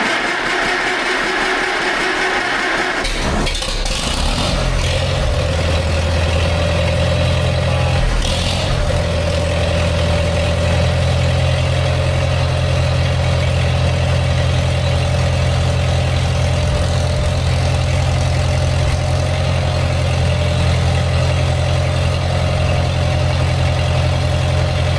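An engine cranks and catches a few seconds in, then settles into a loud, steady idle with a deep, even drone that carries on for the rest of the clip, with no talking.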